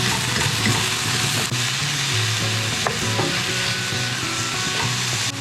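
Ground meat browns in a hot pan for shepherd's pie, with a steady, close, loud sizzle and frying crackle throughout as it is stirred and broken up. No one speaks.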